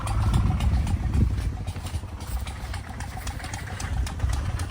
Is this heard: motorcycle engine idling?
yes